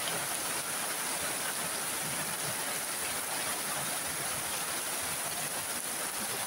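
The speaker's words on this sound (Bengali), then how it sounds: "অনেক বৃষ্টি হচ্ছে" Heavy rain falling steadily over a village home in Sylhet, a dense unbroken hiss with no pauses and no voices.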